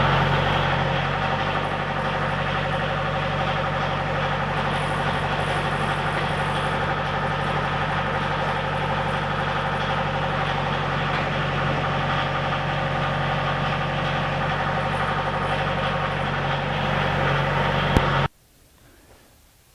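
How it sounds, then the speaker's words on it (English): A fork truck engine idles steadily, with a low, even rumble running unbroken for about eighteen seconds while a scrap barrel made from a 55 gallon drum is loaded, then cutting off abruptly. "let me give you a little bit of footage of loading it up with the fork truck"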